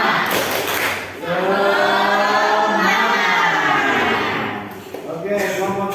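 A classroom of Indonesian schoolchildren perform a rhythmic spirit clap together, loud and close, with their voices chanting along in unison over the clapping.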